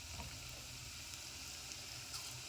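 Onion bajji frying in hot oil inside a steel idli vessel, giving a steady, even sizzle that holds close and constant throughout with no voices over it.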